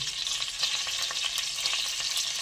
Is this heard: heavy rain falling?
no